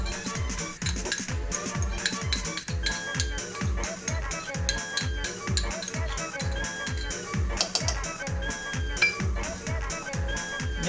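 Pan clatter and scraping as small onions go into bulgur toasting like a risotto, with steady rhythmic metallic knocks and clinks of a utensil against the pan throughout, close and busy, with a voice talking over it.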